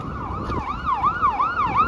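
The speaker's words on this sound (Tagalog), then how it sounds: "Fire truck. Merong fire truck." A fire truck siren wails continuously as it passes on a highway, its rising and falling tone clear and fairly close over steady traffic rumble.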